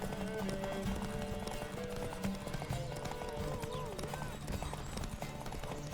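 Roach the horse gallops in Witcher 3, a rapid steady clip-clop of hooves running continuously under game music and someone talking over it.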